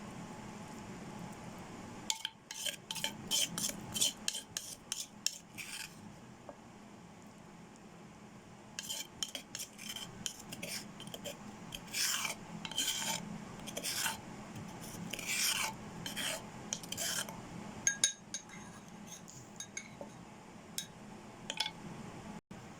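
Chili paste with salt and seasoning is pounded in a mortar for a Thai nam phrik khi ka, heard as bursts of rasping, scraping pestle strokes in quick clusters, moderately close with short pauses between runs.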